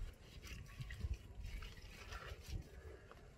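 Water poured over a stray dog during a bath, faint irregular splashes and trickles coming in uneven bursts close by, with no voices.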